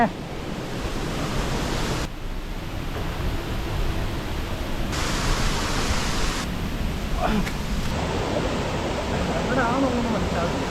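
A waterfall at Kadavupuzha in Kottayam, a steady broadband rushing roar of falling water that keeps going throughout, with abrupt level shifts between sections.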